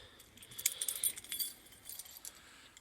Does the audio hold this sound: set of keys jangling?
yes